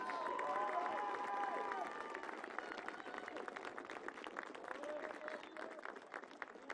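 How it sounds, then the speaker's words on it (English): Crowd applause and cheering in a stadium at the 2019 NCAA Division III men's soccer championship ceremony for the Amherst Mammoths; sustained, moderately distant clapping with scattered shouts and whistles over a public-address voice, easing slightly midway. "have another round of applause for the Amherst Mammoths"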